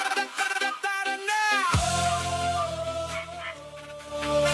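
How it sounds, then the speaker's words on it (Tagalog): A dog whimpers and yips in high, wavering tones, then a sudden low rumble and steady hum take over as the whining continues faintly. "pakinig yung aso namin"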